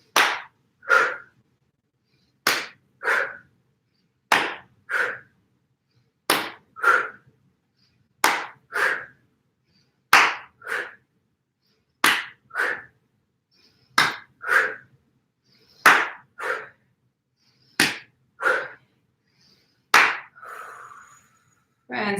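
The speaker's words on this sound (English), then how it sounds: "We inhale, clap above the head, and exhale, letting go to either side of the body." Hands clap above the head during full-body qigong swings, sharp single claps repeating at an even, unhurried rhythm about every two and a half seconds, each followed by a soft swish, with no talking over them.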